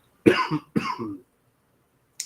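Two close, sharp coughs in quick succession, followed by silence.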